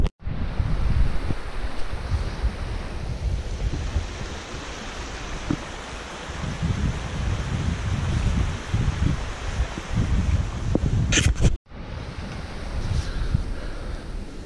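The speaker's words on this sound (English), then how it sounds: "Wind's obviously coming towards the camera." Strong wind blows toward the camera across an open valley at Ennerdale, a steady loud roar of buffeting gusts against the microphone, broken by a brief cut near the end.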